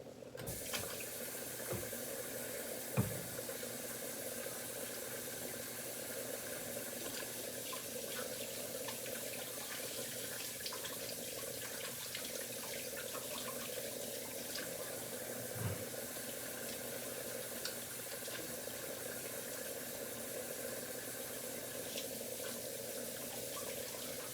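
Water runs steadily from a kitchen tap while hands are washed beneath it, giving a continuous close splashing hiss into the sink with a couple of small knocks and no talking.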